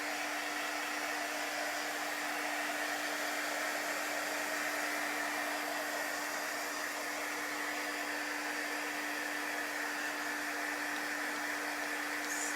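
A hair dryer blows steadily on a painted wooden sign, a constant close whooshing airflow with a steady motor hum, unbroken for the whole stretch with no talking.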